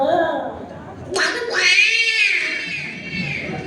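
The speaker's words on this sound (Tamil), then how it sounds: "பூனை எவ்வளோ அழகா சொல்லுது பாருங்க." A cat gives a drawn-out, wavering meow, loud and close, between stretches of background talk and family chatter at a hotel gathering.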